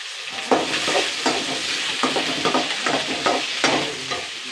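Green chillies and onions, with ginger and potatoes, sautéing in hot oil in a pan, a continuous close sizzle broken by repeated scraping stirs at an uneven rhythm, no voices.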